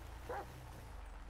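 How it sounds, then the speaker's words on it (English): A single short dog bark rings out once, fairly faint and somewhat distant, followed by quiet background. "there's a dog"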